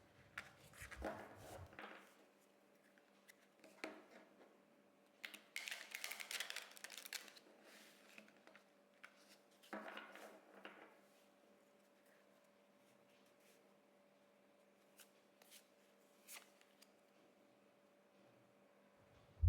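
A deck of tarot cards being shuffled by hand, soft close riffles and flicks coming in several short bursts separated by quiet pauses, faint and intimate.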